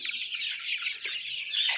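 Healthy hens cluck in a steady, busy stream close by, with a slightly sharper burst of clucks near the end and no voices.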